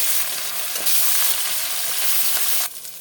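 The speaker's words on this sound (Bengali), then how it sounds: "মাছগুলোকে আমি লাল করে ভেজে নেবো" Bata fish, rubbed with turmeric and salt, fries in hot mustard oil in a kadai with a loud, continuous hiss and spatter, close to the listener and unbroken until a slight drop near the end.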